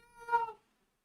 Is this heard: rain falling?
no